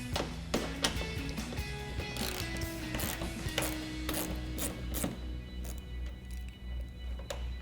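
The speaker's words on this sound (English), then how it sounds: "So we're going to use our 10mm socket and remove those 2 bolts." A 10mm socket ratchet backs out trim bolts on the rear bumper of a 2022-2024 Toyota Tundra during a DV8 Offroad MTO Series bumper install, giving close, bursts of rapid ratcheting clicks over a steady low hum.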